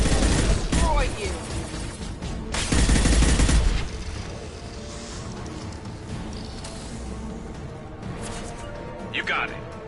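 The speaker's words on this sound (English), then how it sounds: "Firing a high impact shot." Weapon fire in Mass Effect 2, with bursts of loud shots near the start and around the three-second mark, then quieter combat ambience as voices speak.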